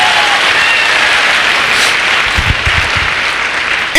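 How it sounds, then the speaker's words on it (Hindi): Loud, sustained applause from an audience at a motivational business event, a dense wash of clapping throughout with a few louder thumps near the end. "इस बिजनेस के लिए जोरदार ताली बजवाना चाहता हूं"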